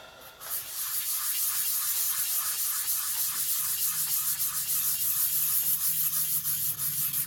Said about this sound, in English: The other thing about these sanding sticks is make sure you don't really push, just kind of lightly, just rest on the top of them